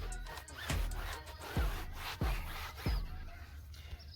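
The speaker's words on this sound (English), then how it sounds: "the towel works perfect and we get to rub it in there" A towel rubs tire shine into a flat tire in several firm, separate strokes, each a scraping, squeaky swipe with soft rubbing between them.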